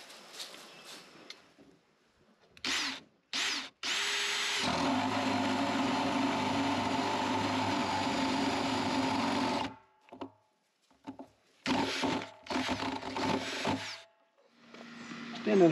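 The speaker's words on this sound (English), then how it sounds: "So I'm going to drill a hole here." A power drill boring a hole in a barrel for a chicken waterer whirs in long sustained runs, starting and stopping several times, with short bursts between pauses and brief quiet gaps.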